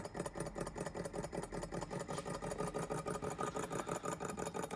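OKMO J06D mini four-column beam hot-air Stirling engine running steadily, giving a faint, even, fast rhythmic mechanical chuffing with a soft whirring hum and no pauses.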